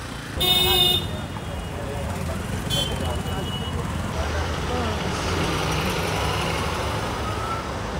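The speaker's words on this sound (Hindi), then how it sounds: "सुबह से मैं देख रहा हूँ ट्रैफिक ही ट्रैफिक" Heavy Mumbai city traffic rumbles on without a break, with two sharp horn toots near the start and someone talking over the road noise.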